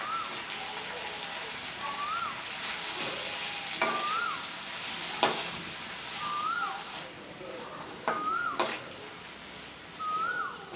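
Mint leaves being stirred and fried in a pan for chutney, a steady sizzle with repeated spatula scrapes and knocks against the metal, close and moderately loud, with occasional faint voice sounds beneath.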